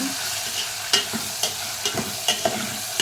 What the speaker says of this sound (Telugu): పోపు చూడండి అల్లం వెల్లుల్లి పేస్ట్ అన్నీ వేసిస్తున్నాను